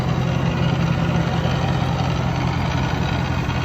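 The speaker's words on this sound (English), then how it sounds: "There's the Whipple supercharger." A 2018 GMC Sierra 6.2L V8 fitted with a Whipple supercharger and straight-piped dual exhaust idles with a loud, constant, deep rumble close by.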